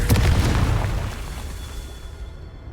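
A Confringo spell explosion in Hogwarts Legacy: one loud, close burst that booms and then rolls off in a long, fading rumble over about two seconds, with no talk.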